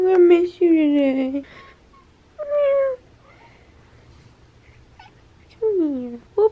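A pet house cat meowing indoors as its owners leave for the beach: several drawn-out, falling meows come close and clear, separated by quiet gaps.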